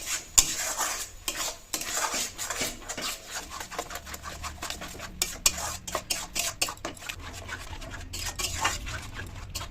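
A spatula stirs taro stem and dried fish bharta in a pan, giving soft repeated scraping and clinking strokes against the metal over a faint sizzle, close by and with no voices.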